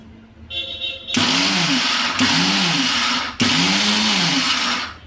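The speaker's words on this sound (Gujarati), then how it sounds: "આ રીતે તમે પીસશો એટલે એકદમ કરકરીયો પાવડર થશે." A mixer grinder coarsely grinds mustard, fenugreek and fennel seeds for a sweet lemon pickle, its loud motor roaring in three pulsed bursts with brief stops between, the seeds rattling inside the jar.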